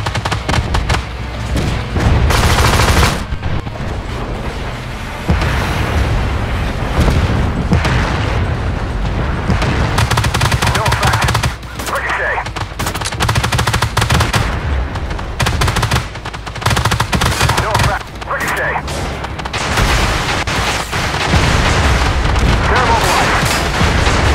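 Gunfire in the Armored Warfare video game, with dense, loud bursts of shots and booming blasts continuing throughout, and voices occasionally heard underneath.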